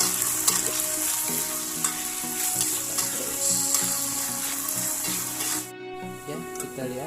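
Jengkol frying in a pan with bay leaves, a loud continuous sizzle broken by repeated scraping stirs of a utensil, with brief clattering and a short quieter gap near the end.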